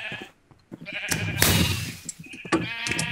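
Sheep bleating in the Minecraft video game, several loud overlapping in-game bleats with clicks and game effects over about three seconds.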